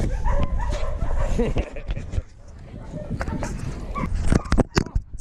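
Greyhound racing dogs bark, yip and whimper in a dense, agitated chorus at close range, with loud bursts near the end, while a person talks over the noise.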